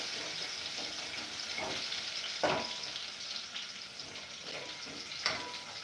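Garlic sautéing in hot oil for a dal, a steady close sizzle running throughout with a few soft scraping stirs.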